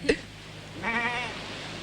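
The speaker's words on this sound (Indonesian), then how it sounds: "Kambing." A goat gives a single short, wavering bleat close by, preceded by a brief knock, in a quiet indoor scene.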